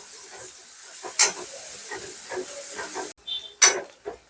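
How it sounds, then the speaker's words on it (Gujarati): Chopped onion dropped into a hot pan and stirred, giving soft bursts of hissing sizzle with a sharp loud hiss near the start and another near the end, quiet and close. "હવે ડુંગળી નાખી હલાવી નાખીએ અને એ જરાક પાકવા દઈ"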